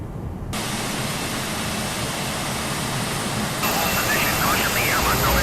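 An Airbus A330 engine spools up during pushback in Microsoft Flight Simulator 2024: a loud, steady broadband roar that begins abruptly and then swells brighter and stronger partway through, with a faint voice briefly audible near the end.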